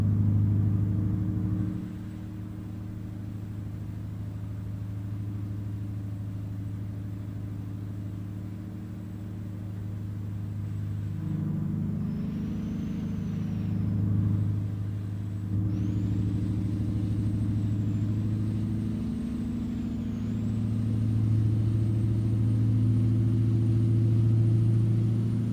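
A heavy-haul truck engine in American Truck Simulator drones steadily with low rumbling, rising slightly at times, plus a thin high whine, cruising slowly at about 40 mph on a highway.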